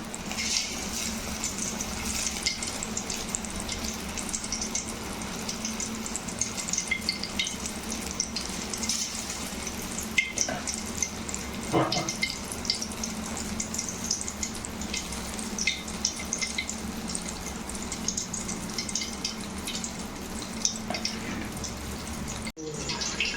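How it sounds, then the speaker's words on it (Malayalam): Batter-coated papaya pieces deep fry in hot oil, giving a steady, close, fizzing sizzle with faint crackles and pops that continues evenly throughout. "ഈ പപ്പായ മാവിൽ മുക്കി പൊരിക്കാൻ പോവുകയാണ്."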